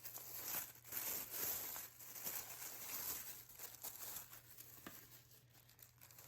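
Taped-up Bargain Bead Box subscription package being opened close by, with steady crinkling and tearing of tape and packaging over quiet room noise.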